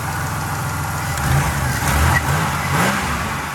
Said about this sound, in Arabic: المحرك نوعا ما صافي شوفوا